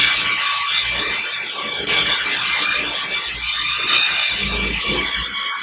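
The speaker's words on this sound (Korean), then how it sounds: "이렇게 시공 전에 교반 작업을 자체적으로 해줘야 됩니다." Ceramic insulation paint churned in its container before application, the paint and ceramic components being mixed back together; a steady, close, continuous scraping and swishing runs throughout without pause.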